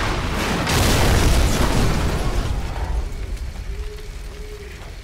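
An incoming missile blast in Call of Duty 4: Modern Warfare lands as a heavy, close boom with a deep rumble that slowly fades into a low, lingering aftermath.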